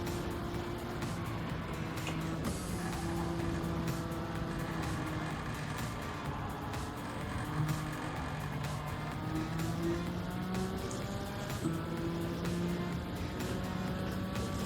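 A racing car in Gran Turismo holds a steady, droning engine note throughout, its pitch shifting slightly up and down with gear changes and throttle, constant and moderately loud with no voices.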